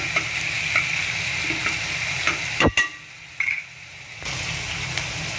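Onions sautéing with salt in a pan for a country chicken curry, a steady close sizzle broken by a few sharp clanks of stirring near the middle, then the frying hiss resumes alone.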